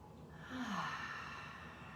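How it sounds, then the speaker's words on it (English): A deep breath taken during gentle seated chair yoga, one soft, close, sighing inhale-exhale with faint voiced tone, alone against a quiet room. "Big deep breath."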